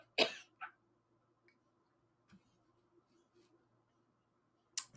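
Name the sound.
person coughing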